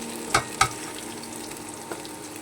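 Pointed gourd pakoras fry in hot oil in a kitchen, a soft steady sizzle broken by a couple of sharp clinks or scrapes near the start and a faint one later.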